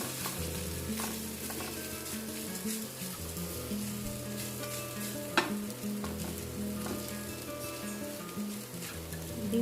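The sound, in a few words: stirring coconut and cucumber poha in a pan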